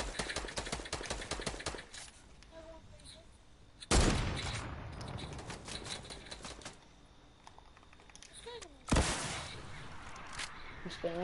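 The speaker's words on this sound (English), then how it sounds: "I'm gonna spam rockets." Rockets fired repeatedly in a video game, dense rapid bursts of explosive popping with two sharp loud blasts, while a player talks over the action.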